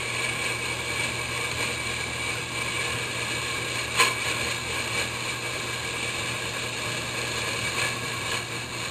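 A small lathe turns and cuts aluminum, giving a steady, even mechanical drone with a single sharp click partway through.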